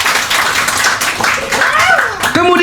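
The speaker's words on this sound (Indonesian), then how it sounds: "Kalau setuju tepuk tangan dong sama teman-teman semua" Audience members clap hands during a motivational session on team building, the scattered claps mixing with several voices, including what may be a child, talking over them throughout.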